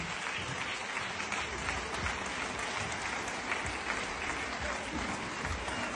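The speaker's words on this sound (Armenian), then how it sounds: "ուզում եմ մեկ անգամ ևս շատ բարձր ծափահարենք այսօրվա բոլոր մասնակիցներին" A large audience at a song-and-dance festival claps loudly and steadily for the participants, a dense unbroken wash of applause throughout.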